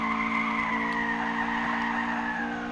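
Sustained tire squeal from a car drifting through a mountain pass hairpin in the racing game Initial D Touge Spirit, a steady high screech over a droning engine, with no talk.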